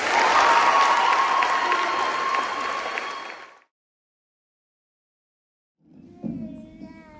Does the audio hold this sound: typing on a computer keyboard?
no